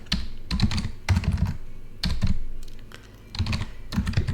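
Computer keyboard typing in several quick clattering bursts separated by short pauses, close and fairly loud, with no voice.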